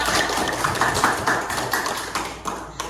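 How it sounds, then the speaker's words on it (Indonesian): Schoolchildren in a classroom clap for a classmate, a dense patter of small hands close by, steady for a few seconds and thinning toward the end. "Beri tepuk tangan kepada Rehan"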